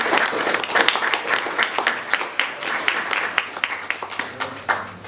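A room full of people applauds at an opening ceremony, a dense, steady patter of clapping that continues for several seconds.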